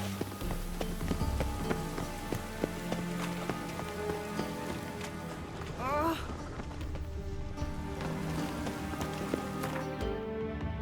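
Rain falls steadily in The Witcher 3, a constant hissing patter on surfaces with scattered drips and horse hoof clops, while game music and voices sit in the background.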